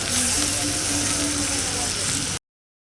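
Fish fry in hot oil with a dense, loud, continuous sizzle that fills the whole stretch and then cuts off abruptly.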